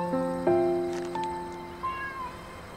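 Kittens meow several times in succession, thin high-pitched cries close by and fairly quiet, with no talking over them.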